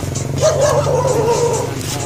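A dog barking and yipping in short excited bursts, close by, with a low engine rumble in the background.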